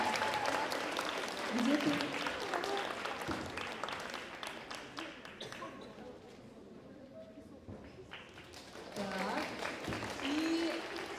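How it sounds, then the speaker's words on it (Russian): Audience applause rises and falls at a festival award ceremony, a dense wash of clapping that swells near the start and again at the end, with voices talking over it. "Аплодисменты красной королеве!"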